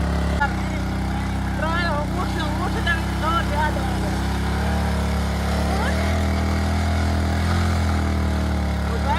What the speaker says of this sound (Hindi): आज मोटरसाइकिल नाल ट्रैक्टर स्टार्ट थी वने पता लगदा है हां स्टार्ट थींदा या नहीं